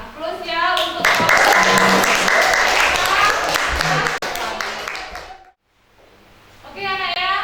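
A classroom of students breaks into loud, dense clapping for several seconds. It then stops abruptly and gives way to a brief quiet and then voices.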